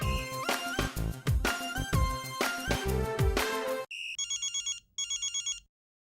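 Loud music plays, then cuts to an electronic telephone ring: two bursts of rapid trilling tones, separated by a short pause, then silence.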